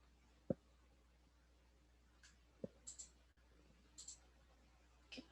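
A few isolated computer mouse clicks, sharp and close, spaced irregularly with soft faint taps between them over a quiet background.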